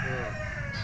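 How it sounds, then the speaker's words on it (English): Rooster at a Philippine gamecock training yard crowing one long, loud, close call with a strained harmonic tone, heard alone without talk. "What is this rooster?"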